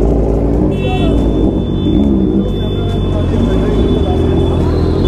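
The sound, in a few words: many motorbikes riding past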